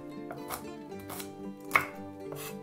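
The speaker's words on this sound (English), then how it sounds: "Cut 4 coriander roots." Coriander roots and stems being chopped on a board, a few spaced knife taps with one sharper cut, quiet and close, with faint music underneath.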